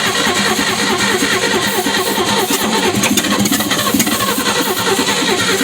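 Engine of an abandoned 1953 Chevy 3100 pickup, primed with starting fluid after the carburetor was lubed, cranks and catches into a steady, loud, continuous running roar that persists throughout, close to the microphone.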